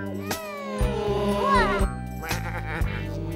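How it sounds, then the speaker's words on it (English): A cartoon sheep bleats loudly in a wavering, drawn-out call, followed by a few shorter bleats, heard up close over a bright, bouncy children's cartoon music backing. "And how many sheep?"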